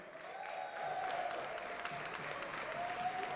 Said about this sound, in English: Please give a round of applause for your last chance qualifier, number 4.